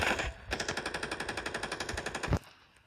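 Rapid automatic gunfire in the mobile shooter Standoff 2: a burst of about twenty evenly spaced shots, loud and close, ending abruptly and followed by a quieter tail.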